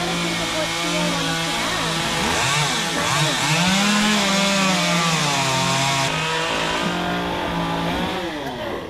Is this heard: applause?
no